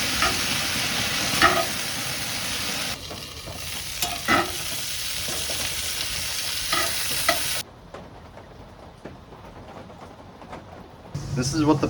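A pork chop sears in a hot pan at a deer camp, hissing and sizzling steadily with occasional utensil clinks. The sizzle drops suddenly to a softer level partway through, and faint voices can be heard in the background.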